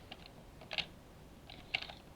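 Computer mouse clicks sound as a few sharp, quiet taps spaced about a second apart against a faint background hiss.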